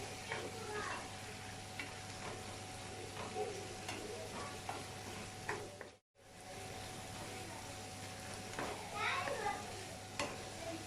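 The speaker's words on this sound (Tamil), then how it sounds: "மசாலா எல்லாமே நல்லா கலந்து விட்டுக்கலாம் இந்த சிக்கனோட" Chicken coated in masala, cooked with ginger, garlic and butter, fries in a pan under repeated stirring, a steady close sizzle with scraping strokes and a brief cut to silence midway.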